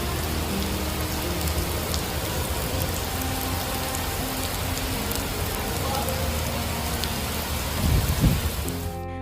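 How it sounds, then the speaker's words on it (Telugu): Heavy rain pouring in Mecca, a dense, steady roar of rain on surfaces that stays constant throughout, with a brief low rumble near the end. "ఒక్కసారిగా భారీ వర్షం విరుచుకుపడినట్టుగా తెలుస్తోంది"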